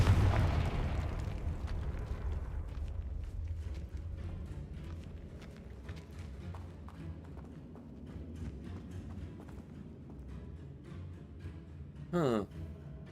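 A Confringo blasting spell bursts open in Hogwarts Legacy with a loud booming blast at the start that decays into a fading rumble and scattered crackles, followed later by a short sharp effect.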